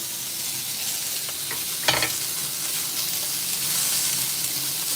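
Steak bites sizzling in a cast iron pan, a dense continuous hiss of frying fat heard up close, with one brief clatter of a utensil partway through.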